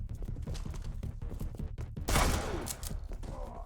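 Pistol gunfire rings out in the video game RE:Verse: rapid, repeated shots in a steady fusillade, followed by a louder burst near the middle, close and dense over a continuous game soundscape.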